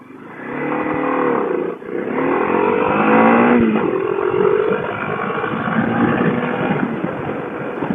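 Suzuki DR 800 S motorcycle accelerating hard from a standstill to 100 km/h, the engine note rising steadily through the gears with a brief dip at a shift, loud and close throughout with no talking.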